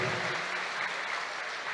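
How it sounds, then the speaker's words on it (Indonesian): An audience at a college ceremony claps after a dance performance, a dense, even wash of applause that fills the whole short moment with no speech. "Mari kita berikan tepuk tangan yang meriah."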